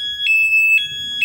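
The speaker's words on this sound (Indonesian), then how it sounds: "Kita aktifkan alarm atas tombol. Nah, ini alarm aktif, jadi kalau kesenggol kontak tidak bisa diputar." Keyless anti-theft alarm on a 2020 Honda Beat CBS motorcycle sounds three short, loud, high electronic beeps in an even rhythm, close by, with no one speaking.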